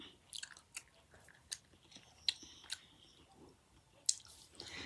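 Gum being chewed close up, with soft irregular wet chews and a few sharper clicks spread over a few seconds, fairly quiet and without any talk.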